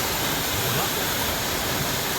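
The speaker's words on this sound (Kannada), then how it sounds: "ಇಲ್ಲೊಂದು ಏನೋ ಜಲಪಾತದ ತರ ಕಾಣಿಸ್ತಾ ಇದೆ." A waterfall roars with a constant broadband rush of falling water that fills the whole stretch, loud and close.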